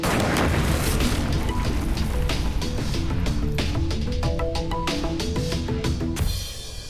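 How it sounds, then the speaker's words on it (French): A building is blown up in a large explosion, a sustained heavy roar and rumble with crackling debris filling several seconds before cutting off abruptly. "je vais faire sauter le bâtiment."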